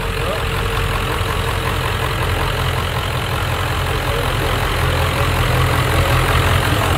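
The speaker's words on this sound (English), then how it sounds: "That's the sound of plastic diesel right there." A steady, low truck diesel engine running on plastic-derived diesel idles close by, a smooth continuous rumble that holds even throughout with no revving.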